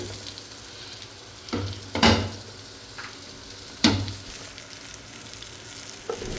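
Cabbage sizzles in butter on a grill, a steady close frying hiss broken by several sharp clatters and scrapes of stirring at irregular moments.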